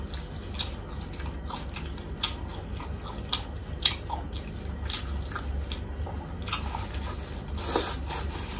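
Someone eats a mukbang meal of Padang rice with several side dishes, with close, soft chewing and wet biting sounds over a steady low background hum.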